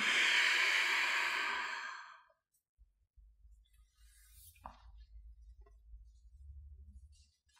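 A long, loud breathy exhale during a yoga breathing exercise, fading out over about two seconds, then quiet low rustles and faint breathing.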